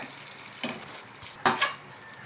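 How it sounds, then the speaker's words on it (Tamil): Spoon stirring chilli pickle with a small piece of jaggery in a pan, a few soft scraping strokes and light clinks against the metal, close up with no talk. "ஒரு சின்ன துண்டு பீஸ் வெல்லம் மட்டும் போட்டு நீங்கள் கலரி இறக்கிடுங்க"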